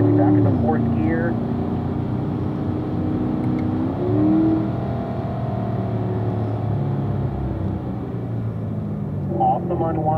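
Corvette engine pulling hard on a racetrack during a driving school session, a steady loud drone that rises in pitch as it accelerates and shifts up, with a coaching voice speaking over it.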